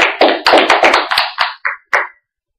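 A church congregation claps in acclamation of Jesus, about ten sharp, loud claps in a quick uneven burst that slows and trails off into silence.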